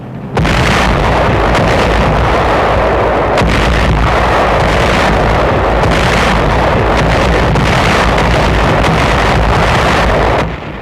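Sustained artillery fire from a WW2 documentary soundtrack, a dense, continuous roar of rumbling blasts with heavy low-end and wind-like noise, loud and steady with no clear pauses for nearly the full length.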